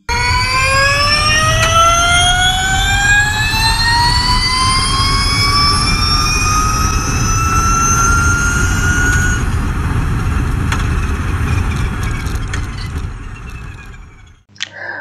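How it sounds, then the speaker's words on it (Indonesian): A Formula E electric race car passing close by on a Jakarta street circuit, its high electric whine rising in pitch as it accelerates, then fading and cutting off near the end. "Suara yang dihasilkan mobil balap ini terdengar sangat halus."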